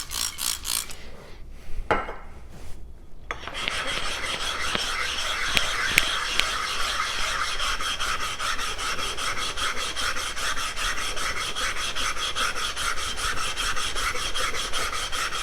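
A Magnacut steel knife drawn across a 6K whetstone gives a steady, close wet rasping that runs continuously after a few brief opening strokes separated by short pauses.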